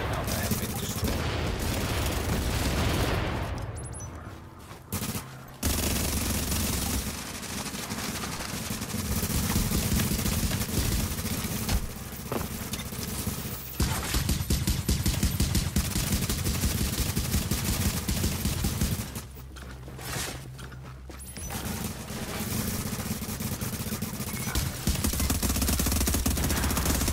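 Gunfire hammers a fortification in Tom Clancy's The Division: nearly continuous loud bursts of automatic fire and fusillades, broken by two brief lulls, with a voice speaking over parts of the barrage.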